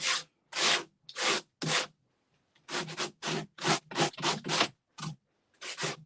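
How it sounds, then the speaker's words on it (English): A table being sanded by hand with a sanding block: a series of rhythmic, raspy back-and-forth strokes, close and distinct, with brief pauses between bursts. "to sand that right down."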